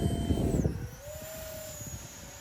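A twin-engine Batwing V2 RC plane with twin 40 motors slow-flies at half throttle, its steady motor whine carrying faintly with a slow pitch shift, louder at first and then easing off under outdoor wind noise.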